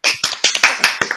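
An audience claps in a short burst of several sharp, uneven hand claps, close and fairly loud, with no talking over them.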